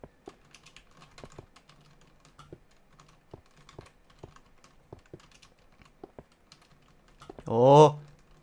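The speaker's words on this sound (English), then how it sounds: "You can probably hear my keyboard right now." Rapid irregular clicking of keys on a computer keyboard, close up, followed by a short burst of voice near the end.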